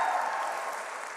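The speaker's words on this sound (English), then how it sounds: "Give them a cheer, give them a welcome from all of us in the" Theatre audience at Alexandra Palace breaking into broad, steady applause and cheering, a dense wash of clapping that fills the room without pause and fades only slightly toward the end.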